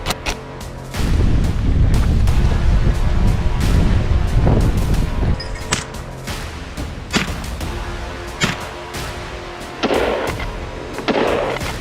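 Rifle fire during a wild boar hunt outdoors: a loud boom early on, followed by scattered sharp cracks and thumps over wind and rustling, with no talking.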